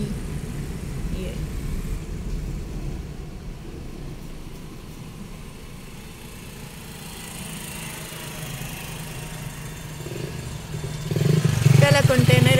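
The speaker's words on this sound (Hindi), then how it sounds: "चलें आज बाइक वालों को देखते हैं, बाइक वाले कैसे गुजरते हैं।" Motorcycles pass along Praveen Shakir Road in Islamabad's F-7 sector amid steady street traffic, with one bike growing louder and closer near the end, and a voice occasionally talking over the engine noise.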